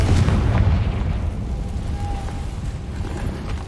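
A video game Confringo spell goes off in a deep, rumbling boom that is loudest at the onset, then trails off into a sustained low roar over a few seconds.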